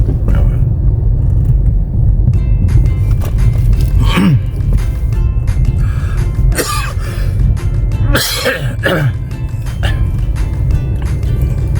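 Harsh coughs break out a few times over a loud, steady rumbling background, each one a short rough burst close to the listener.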